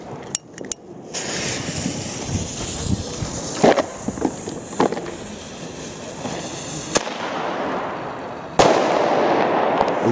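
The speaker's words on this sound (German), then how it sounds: "wir fangen an mit dem Flashbang aus dem Lidl" A Lidl Flashbang firecracker of the Bombenrohr type goes off outdoors, with scattered sharp cracks and a fizzing rush before it ends in one loud bang and a lingering rumble.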